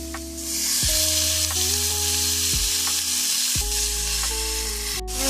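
Ground beef sizzles loudly in a hot pan with onion and minced garlic, a close, continuous frying hiss with no talk, broken now and then by stirring.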